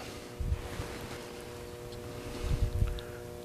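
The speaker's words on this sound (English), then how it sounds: "If you hear a background hum, that is the sound of the battery charger." A battery charger in a workshop hums steadily with faint tonal lines, broken by two low rumbling thumps of handling noise.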